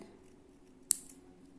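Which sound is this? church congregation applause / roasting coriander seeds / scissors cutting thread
scissors cutting thread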